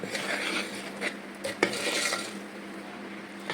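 A spoon scrapes and clinks against a bowl while stirring ragi dosa batter with added salt, a busy, close series of wet scraping strokes with a few sharper knocks.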